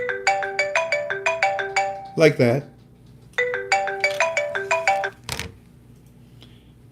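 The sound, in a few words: phone ringtone ringing for an incoming call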